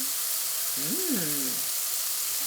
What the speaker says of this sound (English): I like to crank the heat, put the mushrooms in, then follow with the shallots or onions or garlic